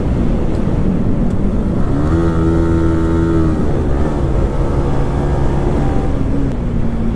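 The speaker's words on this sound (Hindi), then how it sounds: "एक तो बिना ABS की बाइक चला रहा हूँ मैं" A motorcycle without ABS rides along at speed, its engine droning loud and continuous under heavy wind rush, with a brief rise and fall in pitch as the rider accelerates.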